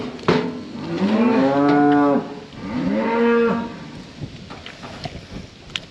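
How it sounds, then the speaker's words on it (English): A Hereford cow in a cattle chute lets out two long, loud moos close by, each a rising and falling bellow, followed by faint clanks and shuffling. "first one in the chute here, Hereford cow"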